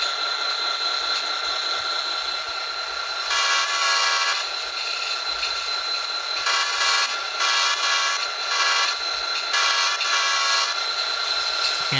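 A grain train in the TrainWorks 2 video game runs with a steady engine drone, while repeated loud horn blasts come in bursts over the rumble.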